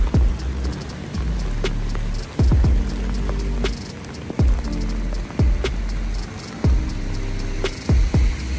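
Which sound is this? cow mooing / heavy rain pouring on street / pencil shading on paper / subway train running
heavy rain pouring on street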